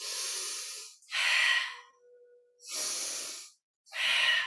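Deep breaths during a pilates plank, four loud, close, airy inhales and exhales in a steady rhythm separated by short pauses.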